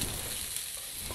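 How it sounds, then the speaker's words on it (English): Shrimp and flat rice noodles stir-frying over high heat, a dense, steady sizzle filling the short moment with no voices. "Turn up the heat to high. Toss for 30 seconds to bring out the flavor."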